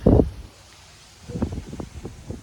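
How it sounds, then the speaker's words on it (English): Gusty wind rising around a sailboat in the Caribbean during hurricane season: a sharp rumbling buffet hits the microphone, a lull follows, then a run of uneven low gusts flutters against it close up, with no voices. "The wind is starting to pick up."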